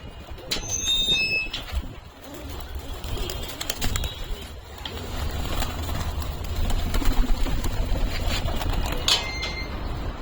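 Pigeons kept outside on a rooftop loft coo in low murmurs amid a busy background of rustling and faint chirps, with occasional sharp knocks, heard from a moderate distance without talk.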